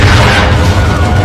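An RPG rocket explodes in the shooter game Modern Warfare (2022): one loud, deep, rumbling boom that fills the whole short moment at full force.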